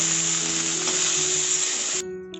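Cauliflower pieces frying in hot oil in a wok while being browned for an egg and potato curry: a steady, loud bright sizzle that runs unbroken and then cuts out abruptly near the end.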